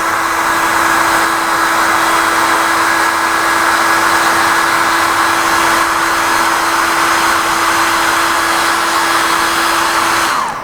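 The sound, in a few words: hair dryer blowing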